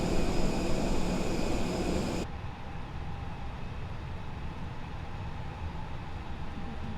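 Airbus A320neo fly-by-wire airliner in a flight simulator taxiing from the apron toward the runway, a steady broadband engine whine and rumble that drops in level partway through and continues as a constant low hum.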